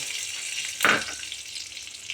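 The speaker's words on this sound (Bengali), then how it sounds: "কড়াই তেল দিয়ে দিয়েছি, তেল গরম হয়ে গেছে। এবার গোটা গরম মশলা, শুকনো লঙ্কা আর 5 ফোড়নগুলো দিয়ে দেব।" Whole garam masala, dry red chillies and five-spice seeds are dropped into hot oil in a kadai, setting off a sudden loud burst of sizzling that settles into a steady, close crackle.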